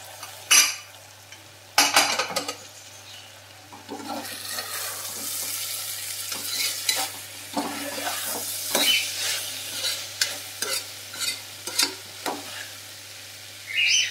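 A spoon scrapes and stirs carrot and chana dal curry in a pan, close and clattery, with a few sharp metallic knocks at the start, then irregular scraping strokes over a faint sizzle.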